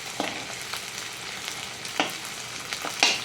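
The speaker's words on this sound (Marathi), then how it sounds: "अशा पद्धतीने मी बघा सगळा डिंक तळून घेणार आहे." Edible gum (dink) frying in hot oil over low heat for methi laddoos produces a gentle, even sizzle, with occasional louder crackles and stirring taps scattered through it.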